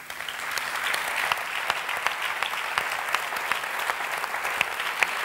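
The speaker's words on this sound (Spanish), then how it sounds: "Les voy a pedir un fuerte aplauso para toda esta gente que va a cambiar Valladolid." A crowd applauds loudly at a political programme presentation in Valladolid, sustained dense clapping with individual sharp claps standing out, heard from within the audience.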